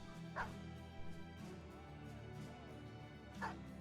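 A dog barks in short yips and whimpers in the Battle Brothers video game, three brief separated bursts over a quiet background hum.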